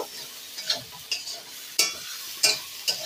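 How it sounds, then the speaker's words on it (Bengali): Vegetables and spices are stirred and fried in a pan for a Bengali prawn curry, with a soft continuous sizzle broken by about six close scrapes of the spatula at uneven intervals and no talking. "এগুলোকে একটু ভালো করে নেড়ে নেব, নিয়ে এই সবজির মধ্যে দিয়ে সব উপকরণগুলো কিন্তু ভেজে নেব।"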